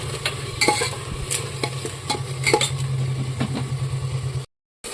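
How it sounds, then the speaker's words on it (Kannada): Chopped tomatoes fry for vegetable biryani, a steady close sizzle with scattered spoon scrapes and clicks against the pan before the sound cuts off abruptly. "ಈಗ ಹಸಿ ವಾಸನೆ ಹೋಗೋವರೆಗೂ ಚೆನ್ನಾಗಿ ಫ್ರೈ ಮಾಡ್ಕೊಳ್ಳಿ."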